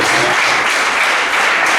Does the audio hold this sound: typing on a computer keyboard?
no